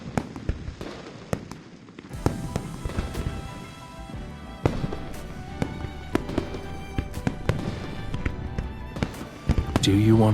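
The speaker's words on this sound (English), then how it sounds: "Do you want to set off fireworks in Hongling City?" Fireworks bursting over Hongling City in the game Love and Deepspace, a dense run of sharp cracks and pops with several loud bangs, steady crackling throughout and a louder burst near the end.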